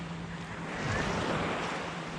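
Ocean waves at a beach wash in steadily as a broad, rushing roar that swells slightly midway, with some wind buffeting on the microphone and no talking.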